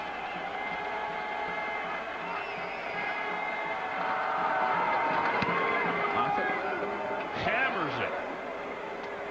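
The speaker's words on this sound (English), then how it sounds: "Crowd trying to come to life." Football stadium crowd at a 2003 college game between Boise State and Tulsa, a steady broad roar that swells gradually in the middle, with an announcer talking over it.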